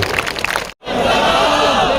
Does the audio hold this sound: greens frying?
no